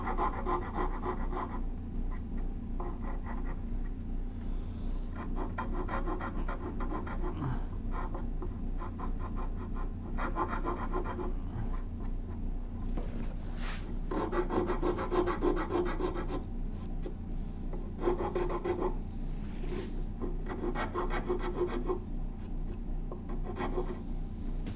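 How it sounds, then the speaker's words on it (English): Rasping and rubbing strokes on the wooden edges of a turned bow saw as they are deburred, a steady run of close, scratchy passes that pause and resume throughout, with no talk. "Deburr the edges."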